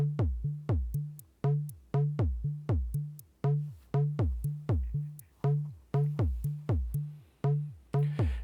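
Synthesized percussion from a Gatestorm module patch: steady repeating pitch-swept drum hits with short bright hi-hat ticks landing irregularly in the gaps, clean and alone.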